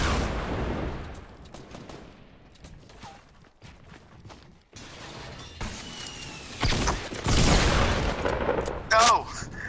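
Bursts of Fortnite shotgun blasts and other gunfire in a match, sharp broadband hits near the end over clattering game mechanisms, with quieter stretches earlier.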